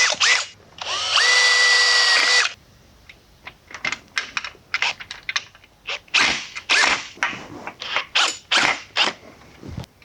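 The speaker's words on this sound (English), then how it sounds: "what we're going to do is drill a pilot hole." A power drill bores a pilot hole into a bracket while a PCA Canoe Creek screen door is being installed. One loud, steady whirring burst of almost two seconds is followed by a string of sharp clicks and taps.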